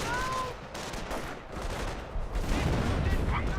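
A gun emplacement in Company of Heroes opens fire, a rapid fusillade of close, loud shots, with a voice talking over the battle.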